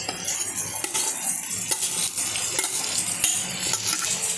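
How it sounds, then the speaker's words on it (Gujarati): Cooked rice being stirred into spiced restaurant-style vegetable pulao in a pan, a steady close scraping and shuffling of a utensil against metal with a light sizzle underneath, no voices. "હવે આપણે આને ધીમે ધીમે હલાવી લઈશું"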